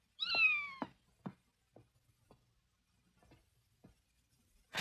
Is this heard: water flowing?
no